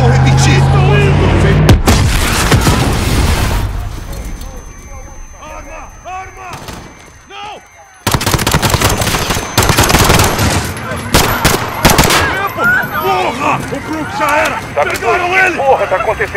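Bursts of rapid gunfire and heavy booms from the game Call of Duty: Modern Warfare, loud and close, with shouting voices mixed in between the volleys.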